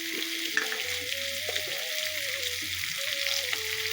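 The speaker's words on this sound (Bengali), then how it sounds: "মা কড়াতে দিয়েছে সাদা তেল, হলুদ আর পেঁয়াজ, এই আদা আর লঙ্কা দিয়ে দিল মা।" Onion, turmeric, ginger and chilli fry in white oil in a wok, a steady close sizzle with a tonal hum running underneath, no talk.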